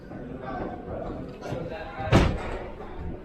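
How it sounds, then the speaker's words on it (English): A sliding glass door on an RV suite at an RV show closes with one sharp thud-like slam, heard over a steady murmur of background chatter. "So you have a sliding glass door coming in"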